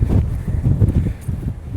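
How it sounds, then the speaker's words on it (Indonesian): Strong wind buffets a microphone on the deck of a Merak–Bakauheni ferry, a loud, continuous low rumbling roar with gusty fluctuations and no talk. "Anginnya kenceng banget sini."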